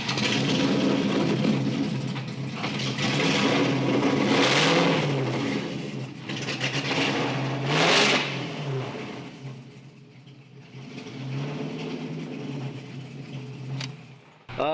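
A Toyota FRS with a swapped-in Ferrari engine cranks to life and revs repeatedly, loud rising and falling blips over a rough idle, echoing close by in a garage.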